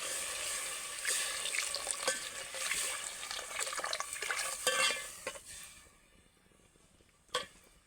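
Water being poured into a pan of tempered moong dal with red chilli and salt in a home kitchen, a steady splashing gush for several seconds that stops abruptly, followed by a single sharp clink.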